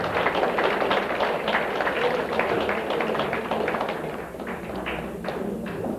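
An audience in a parish hall claps steadily at a senior citizens' party competition, a dense, sustained round of applause that softens slightly toward the end.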